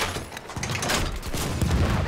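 Rapid bursts of gunfire in Battlefield 1, sharp booming shots crowding together in a loud, continuous volley.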